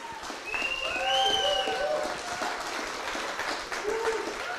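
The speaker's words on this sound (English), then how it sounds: "So if we could give one massive round of applause to ClearScore" An audience at a careers fair breaks into a big round of applause that swells and holds steady, with whoops and voices rising over the clapping.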